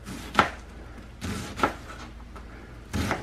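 Chopping food with a big knife on a board: three or four separate sharp blade strikes spaced about a second apart, close and moderately loud, with quiet gaps between.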